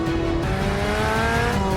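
A Chevrolet Corvette Z06 on a race track, its engine roaring loud and close with a rising, strained tone as it pulls hard under acceleration, a harsh, aggressive note with no voices.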